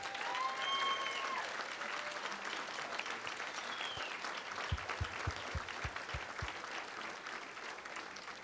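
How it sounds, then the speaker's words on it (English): An audience at a Las Vegas show claps in a dense, sustained burst of applause that carries on throughout, with a few sharp close claps standing out near the middle. "give her a big round of applause."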